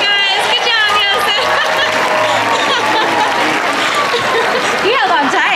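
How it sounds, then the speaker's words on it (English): Audience at a SeaWorld San Diego killer whale show applauds loudly and steadily, with cheering and crowd chatter mixed in and some speech over the top. "Give a round of applause, guys"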